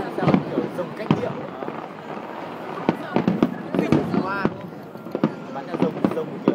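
Fireworks shells launch and burst in a large display, sharp cracks and booms popping at irregular intervals, loud and fairly close, while people chat and exclaim throughout.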